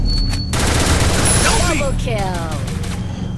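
Sustained automatic MP40 gunfire in the Counter-Strike video game, a loud close burst of rapid shots that trails off into echoing reports.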